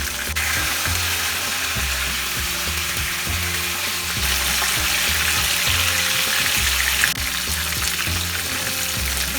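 Tilapia fish frying in oil after being turned onto its other side, a dense, constant sizzle and bubbling that stays loud and even throughout, close by, with no voices.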